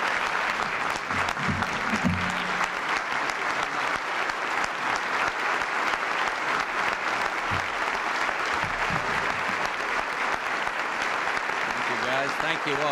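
Audience applause for President George Bush at a National Republican Congressional Committee luncheon, sustained dense clapping from a large room filling the whole stretch, with scattered cheers and voices underneath.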